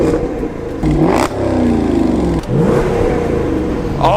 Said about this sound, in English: So let's just give it a little rev.